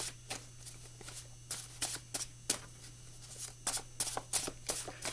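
Tarot cards shuffled by hand in quick riffling bursts, a dozen or so crisp papery flurries at close range, irregular in rhythm, with no talking.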